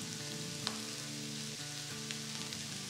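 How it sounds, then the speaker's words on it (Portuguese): Zucchini and eggplant sauté in a pan with a steady, soft sizzle, with a couple of faint clicks over a constant low hum; no talking. "E vamos deixar ele refogar aqui por 3 minutinhos."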